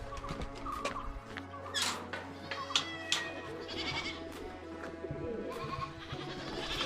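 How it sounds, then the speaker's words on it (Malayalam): Canadian goats at a resort farm in Nelliyampathi bleating repeatedly in loud wavering cries, several animals calling close by in quick succession over a low background hum. "ഇത് ആക്ച്വലി കനേഡിയൻ ഗോട്ട് എന്നാണ് പറയുന്നത്."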